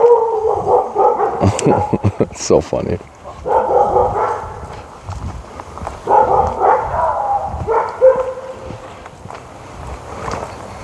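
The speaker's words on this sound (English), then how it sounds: "Oh, dogs in this backyard too." Dogs bark in bursts in a backyard as someone walks through, with someone talking close by and footsteps throughout.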